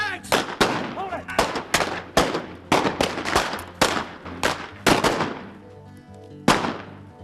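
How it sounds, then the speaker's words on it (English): Rapid bursts of gunfire as sound effects in a Wild West robbery reenactment, about a dozen sharp, loud shots in irregular quick succession with short ringing tails, some overlapping faint background sound. "When Krigbaum opened fire, the robbers started shooting back at anything that moved"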